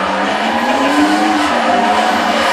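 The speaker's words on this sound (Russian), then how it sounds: "И смотрите, что делает, BMW уезжает" A BMW race car with an inline-six engine accelerating hard, loud and close, its engine roaring steadily while the tires squeal across the whole stretch.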